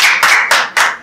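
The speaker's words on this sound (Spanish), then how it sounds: "vamos a darle un aplauso al señor Bad Bunny." Four sharp, loud hand claps land close by in quick, slightly uneven rhythm, each ringing briefly, as someone applauds during an interview.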